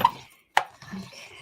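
Paper blended with blue ink being cut for die cutting: one sharp, close snip or chop in the middle of the moment, framed by soft handling rustle, no talk.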